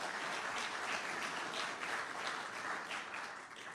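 Steady audience applause fills a public event where Florida's governor speaks about public university tuition, a dense wash of clapping holding evenly for nearly four seconds before easing slightly at the end.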